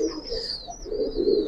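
A pigeon gives a short, close coo, with a faint high whistling tone drifting above it.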